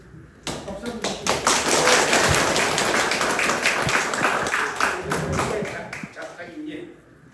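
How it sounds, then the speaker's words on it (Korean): Audience applause at a graduation ceremony for horse commentators in Jeju, a loud burst of clapping lasting about six seconds before fading out. "박수 한번"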